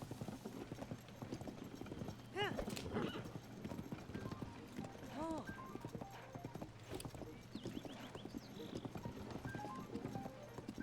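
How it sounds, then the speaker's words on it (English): A horse in Zelda: Tears of the Kingdom clip-clops in a steady run of hoofbeats with a couple of short neighs. The sound stays fairly quiet throughout. "It's a decent horse though."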